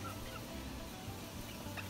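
Low, repeated bird calls from a hen, clucking and gobble-like, running steadily through a constant background hum.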